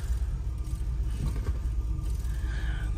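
A 1973 Chevrolet Nova four-door, parked for 32 years, idles with a low, steady engine rumble close by, with a faint scraping noise in the background.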